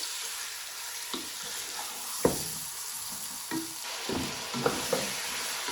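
Chopped onions fry in oil for a mutton yakhni pulao, a steady sizzle running throughout with several distinct stirring scrapes and clacks of the spoon against the pot, close and moderately loud, no voices.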